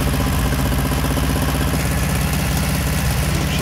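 A ZAZ-965 Zaporozhets car engine runs steadily at idle, a loud, even mechanical rumble with rhythmic pulsing throughout.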